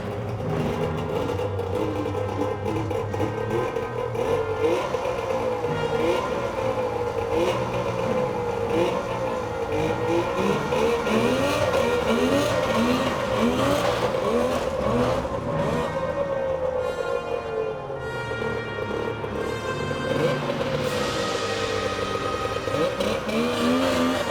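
A turbocharged snowmobile engine runs steadily and close by for a long stretch, its pitch rising and falling as it revs.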